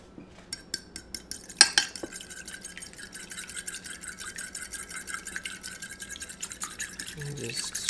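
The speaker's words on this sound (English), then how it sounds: "I'm just gonna get all that nice and whisked up." A whisk beats ingredients in a bowl during a live-stream cooking session, opening with a run of sharp metallic taps against the bowl, then settling into a continuous quick rattling whisking, close up.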